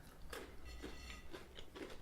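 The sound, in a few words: biting and chewing Sainsbury's Caramel Crisp milk chocolate bar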